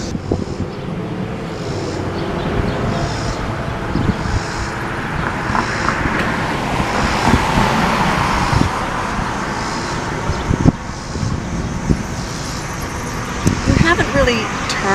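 Road traffic streams past a student practising alignment with traffic sounds, a steady roar of vehicles swelling and fading with wind buffeting the microphone, and occasional voices in the background.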